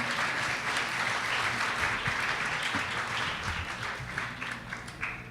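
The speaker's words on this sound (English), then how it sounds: "Just give a one hand round of applause to them one more time" A crowd applauds steadily at a Brooklyn Iftar dinner celebration, a dense, even wash of many hands clapping that holds for the whole stretch and eases slightly toward the end.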